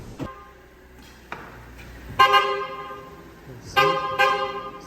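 A car horn honks in several short blasts, loud and near, with brief pauses between them, during a vehicle technical inspection.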